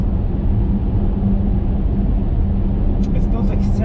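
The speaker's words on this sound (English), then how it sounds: "there's a bit of wind noise and a bit of tire noise" Inside a moving Jaguar I-Pace electric SUV on 20-inch wheels, a steady low rumble of tire roar blends with a soft wash of wind noise, constant and even throughout with no speech.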